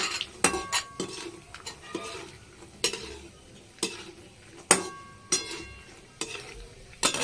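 Peanuts fry in oil while a metal utensil stirs them, producing regular scraping clinks against the pan about once a second over a faint, steady sizzle.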